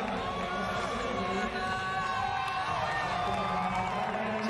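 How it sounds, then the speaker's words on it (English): Stadium crowd at a men's 10000m race at the 2019 Summer Universiade in Naples cheering a runner, a dense steady roar with a commentator speaking over it. "there's a decent support down that back straight now, all cheering him on"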